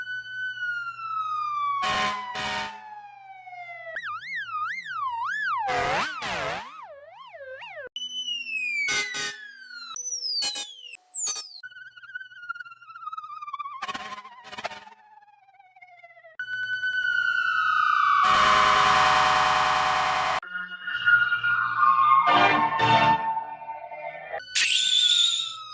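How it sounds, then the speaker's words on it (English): Siren sound variations for Red the fire truck from Pixar Cars: a series of separate wailing, sweeping and whooping siren tones and chirps, each distinct and fairly loud, with short gaps of near silence between them. "Red the fire truck sound variations."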